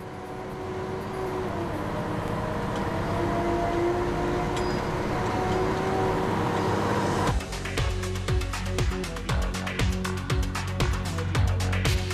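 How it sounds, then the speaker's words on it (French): A huge mining truck rolls along a desert road in the Atacama, its deep steady rumble filling the scene before a dense run of rapid clattering, rattling knocks takes over, loud and close. "Au passage de l'un des 2 énormes camions, tous les autres véhicules doivent patienter sur le bas-côté."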